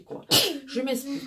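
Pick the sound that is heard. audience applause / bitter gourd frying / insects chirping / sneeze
sneeze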